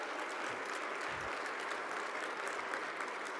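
A crowd applauding steadily for performers and speakers at an MLK Day opening ceremony, a dense sustained wash of clapping at even loudness with no voices.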